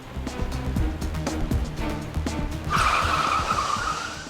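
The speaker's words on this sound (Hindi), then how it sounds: "गाड़ी क्यों रोकी?" A car skids to a halt on a road, its tires squealing loudly for over a second after engine and traffic rumble, in a tense police-drama scene.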